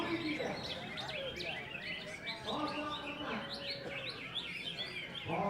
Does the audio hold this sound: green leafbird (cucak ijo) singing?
yes